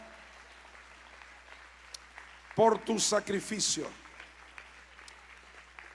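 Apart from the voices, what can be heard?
congregation applauding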